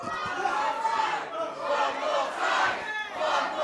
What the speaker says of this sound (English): The crowd want one more.